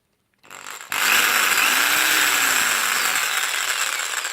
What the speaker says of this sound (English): And then I've got a jigsaw here, which I've had for a number of years